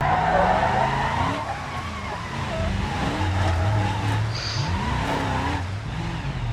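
Simulated vehicle skidding and crashing in BeamNG.drive, with a Jeep and an armored truck involved: continuous loud engine drone with sliding tire squeal and shifting pitch, ending in a crash, with voices talking over it.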